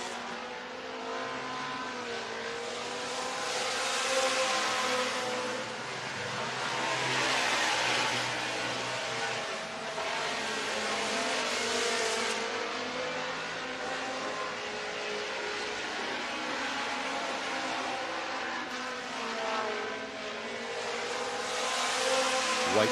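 Race cars circling an ice track during a qualifying session, with engines droning and swelling in repeated waves as they pass, a continuous distant roar over the whole stretch.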